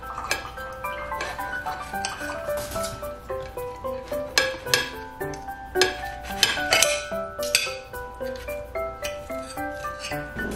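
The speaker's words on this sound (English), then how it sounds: "Mine is already made, so I'm just going to cut them into smaller pieces." Knife and utensils clinking and scraping on a plate or board while already-grilled meat is cut into smaller pieces, a series of close, sharp taps in an irregular rhythm with no talking.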